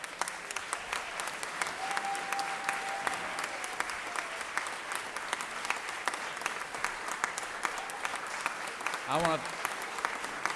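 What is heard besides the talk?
round of applause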